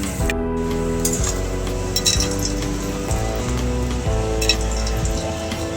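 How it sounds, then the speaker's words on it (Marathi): Grated coconut frying in hot oil in a pan, a steady sizzle beneath occasional metallic clinks of a spoon against the pan, close and fairly loud, no voices. "आता आपण खोबरं भाजून घेतो,"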